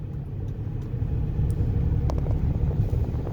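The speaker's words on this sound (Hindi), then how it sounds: "फिर एक्सीलेटर ड्रॉप करो, क्लच प्रेस करो, सेकंड गियर लगाओ आप" A Hyundai Xcent car driving in second gear during a driving lesson, heard from inside as a steady low engine and road rumble that grows a little louder midway.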